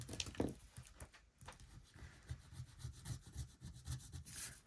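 Scratch-off sticker being scratched with a coin, a steady run of quick, close rubbing scrapes in a rhythmic back-and-forth, fairly quiet and without voices.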